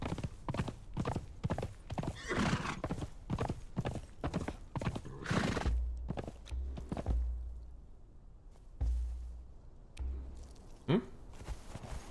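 Horse hooves clip-clop at a quick steady rhythm in the Conan Exiles video game, loud and close, then slow to scattered steps before a short whinny near the end.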